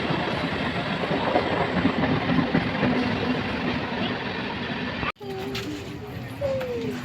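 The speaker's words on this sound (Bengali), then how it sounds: "তো দেখলাম হাফ ট্রেন আসছে, আমি যাব ডাউন ট্রেনে, কিন্তু এটি হলো হাফ ট্রেন।" A half-route local train arrives at a railway station with a loud, continuous rumble and rattle of cars close by, then a sudden drop and quieter station ambience with a faint tone or whistle.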